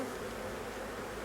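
A colony of honeybees hums at an open hive, a thick, even buzz held up close for a second or so, with nobody speaking.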